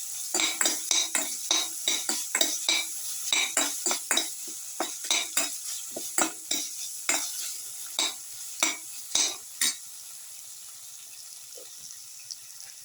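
A utensil stirring potato and tomato rice in a pot, with about twenty sharp scraping knocks in a brisk irregular rhythm that stop partway through, leaving a faint background hiss, close and without speech.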